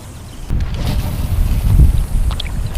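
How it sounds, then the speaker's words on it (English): A kayak is paddled on a windy dam, with a few water sloshes from the paddle strokes under strong gusting wind buffeting the microphone. Nobody speaks. "let's have a paddle around"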